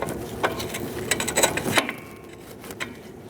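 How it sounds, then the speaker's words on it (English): A brake line fitting is pushed into a wheel cylinder on a 2004-2012 Chevrolet Colorado, making faint, close metallic clicks and small scraping taps that fade to near silence. "Now you're going to insert your line into the wheel cylinder."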